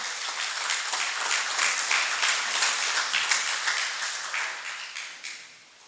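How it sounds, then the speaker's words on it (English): A crowd applauds with dense, sustained clapping that swells slightly and then tapers off toward the end. "Give her a thunderous round of applause, everybody, please."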